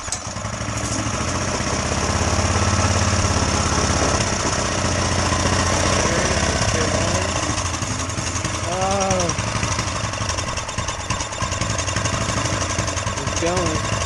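A turbocharged go-kart engine runs rough with the choke on, a loud steady mechanical chatter and drone filling the whole clip close by, with a brief rising whine near the middle.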